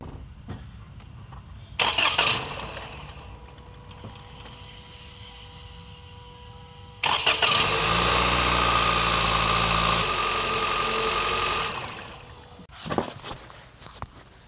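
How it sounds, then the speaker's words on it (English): A 2020 Toyota Corolla SE engine cranks briefly without catching, then cranks again and starts, settling into a loud steady idle before revving and cutting off; no voices. "start my car, put it back on, and you can listen to how the car sounds when it starts up"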